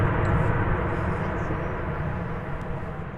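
A five-year-old Boeing 737 Max 9 airliner arriving at DFW Airport from Denver, heard as a loud, steady broadband jet roar that holds nearly constant and eases off only slightly toward the end.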